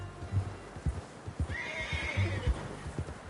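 A horse in the Red Dead Redemption 2 video game gives a clear, rising whinny near the middle, set against the soft, uneven clip-clop of hooves and low background ambience.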